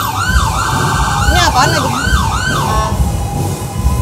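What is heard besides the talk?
ambulance siren passing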